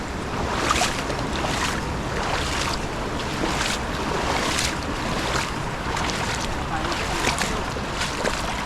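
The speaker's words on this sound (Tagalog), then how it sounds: "Sobrang ano, lakas po ng tubig oh." Loud, steady roar of a strong rushing river fills the whole clip, a constant broadband wash with gusty surges and no talking.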